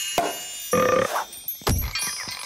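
A cartoon frog gives a few short, throaty croaks and gurgles, close and fairly loud, separated by brief pauses.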